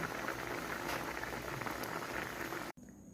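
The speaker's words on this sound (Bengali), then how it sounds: "দেখো, আমার মাছের ঝোল একদম ফুটে উঠেছে।" Fish curry with water and ground spice bubbling at a steady boil in a pot, a dense, continuous simmering hiss that cuts off abruptly near the end.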